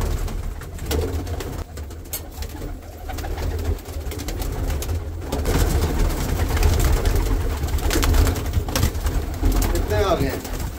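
Teddy pigeons with feathered feet coo in low, rolling murmurs against a steady background rumble.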